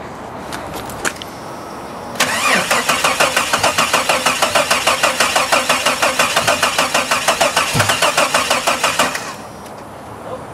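A Jeep engine cranks without catching: a steady, rapid starter whir with rhythmic pulses lasting about seven seconds, loud and close, with some outdoor background noise before and after.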